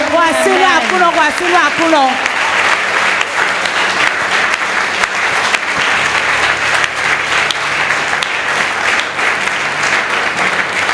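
A church congregation applauds during a French-language Sunday worship service, loud, continuous clapping that fills the whole stretch, with a voice briefly rising over it at the start.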